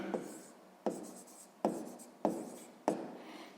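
A pen writes out a math solution on paper, with five distinct scratchy strokes each starting sharply and trailing off, quiet and close with no voices.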